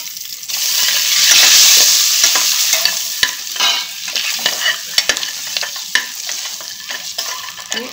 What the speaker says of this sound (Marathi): ही अंडी आपण जी उकडून घेतली होती ती याच्यामध्ये आपण आता जराशी फ्राय करून घेऊ